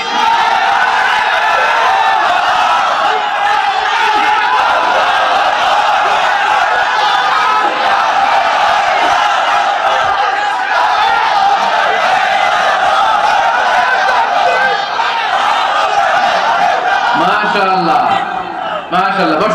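A large congregation at a religious sermon calls out takbir together in loud, sustained group shouting that fills the whole stretch, a dense crowd roar of many voices without pause.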